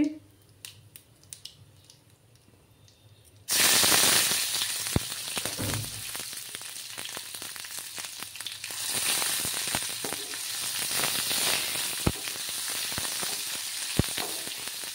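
Tomatoes frying in a pan for a Bengali vegetarian soya chunk curry, starting as a loud, steady sizzle and crackle after a quiet opening, with occasional pops and stirring clicks throughout.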